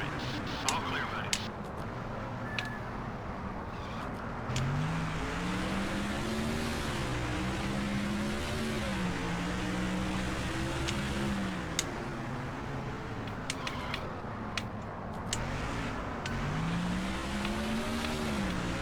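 A race car in the NASCAR Thunder 2004 video game drives in traffic, its engine droning steadily with rising and falling pitch as it shifts, plus occasional faint clicks, continuous and fairly loud.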